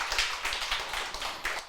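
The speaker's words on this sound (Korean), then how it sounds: "뜨겁게 박수하세요" A church congregation at a Busan anniversary thanksgiving service claps enthusiastically, a dense, even roar of many hands with faint rhythmic pulses running through the short burst.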